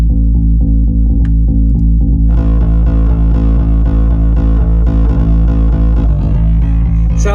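A thick, distorted bass line buzzes steadily in a repeating groove, growing denser and harsher partway through, with a gritty, bee-like hum throughout.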